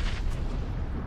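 A grenade detonating in the shooter game PUBG, a brief low rumbling boom that fills the short moment and rolls off without a sharp tail.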